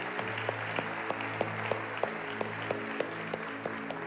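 A church congregation applauds during an evangelical service, a broad wash of clapping mixed with steady rhythmic beats and sustained musical tones underneath.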